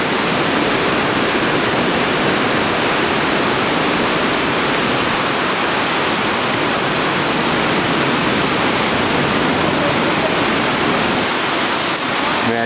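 Water rushes down a rocky channel on Chiloé island in Chile, a loud, dense, unbroken roar that stays close and constant throughout.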